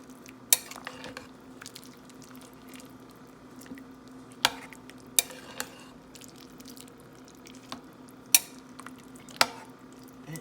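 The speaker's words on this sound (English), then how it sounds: "then I like to give it a really good stir" A spoon stirs 15 bean soup with seasonings in a crockpot, giving soft wet squishes and a handful of sharp clinks against the pot at irregular intervals, fairly quiet over a steady low hum.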